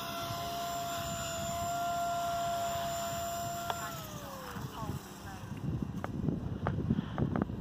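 A Blade 180 CFX RC helicopter fitted with stretched Lynx blades and boom whines steadily, its rotor tone dropping as the throttle is cut for landing, followed by low rumbling wind and handling noise.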